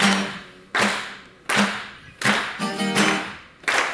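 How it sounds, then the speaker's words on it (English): A comedy club audience claps along in unison, sharp group claps landing about every three-quarters of a second in a steady beat, close and loud, with no talking over them. "I get you guys to lay down a beat for me and clap along"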